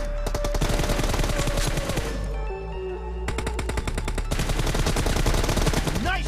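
Rapid automatic gunfire in a 2 vs 2 custom-room shooter game, loud bursts of shots crackling near with a short pause in the middle before the firing resumes.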